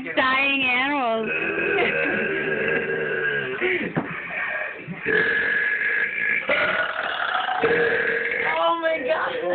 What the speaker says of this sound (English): Those kind of burps feel good.